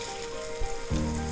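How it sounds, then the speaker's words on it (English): Fish frying in a pan with pepper paste for Portuguese molho de vilão, a loud steady sizzle that swells sharply as the paste hits the hot oil. "it's sizzling so nicely"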